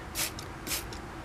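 Two quick hissing bursts from a spray bottle of homemade natural bug-killing spray, close up, each followed by a shorter puff, with a soft shuffle between them.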